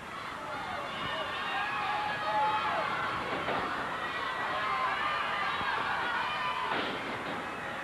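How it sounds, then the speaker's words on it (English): Loud, vocal crowd fills an indoor arena at a 1986 professional wrestling event at the Tulsa Convention Center, a sustained roar of cheering and chatter with a commentator speaking over it. "what a phenomenal crowd here at the Tulsa Convention Center, and they're so vocal on this hot July night"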